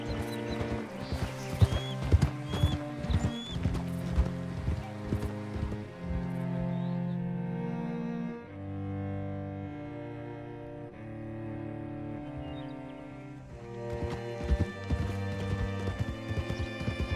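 Horse hooves clip-clop in Red Dead Redemption 2 in steady rhythmic steps under a musical score, fading during a quieter stretch and then returning as the music swells.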